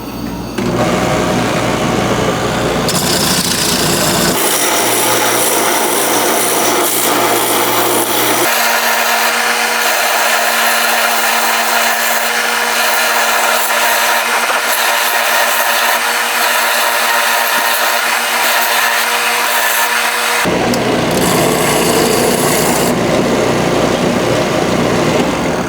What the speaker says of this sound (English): I'm going to grind down this head just to make it look a little nicer.